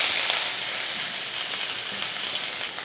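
Onions go into hot oil and fry with a steady, dense, close sizzle that runs unbroken throughout.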